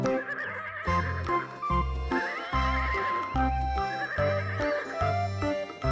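A toy horse plays repeated electronic neighing and whinnying sounds mixed with clip-clop hooves, a loud, tonal, looping sequence with no talking.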